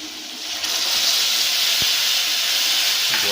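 Spices hit potatoes frying in hot oil, raising a steady, loud, close sizzle and hiss that holds for several seconds without speech.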